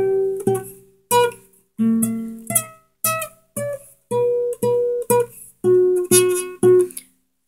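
Guitar picking out a melody, a sequence of clear plucked notes with repeated pitches in short groups, each ringing briefly before the next, close and alone with no talking.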